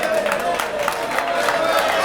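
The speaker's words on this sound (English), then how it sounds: "Listen to the crowd." Audience at the 2003 US Open 9-Ball Championship final between Jeremy Jones and Jose Parica, a steady wash of crowd noise with light clapping and murmuring voices throughout.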